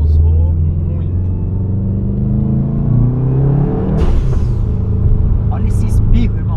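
A 400 hp Subaru WRX pulls hard through rising engine tones, then a sharp blow-off valve hiss bursts out, followed by a few shorter chattering puffs. Voices can be heard inside the car over the engine noise.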